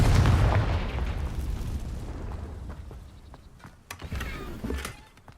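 A Confringo blasting spell explodes in the Hogwarts Legacy video game, a loud booming burst at the start that rumbles and fades, followed by scattered crackling debris.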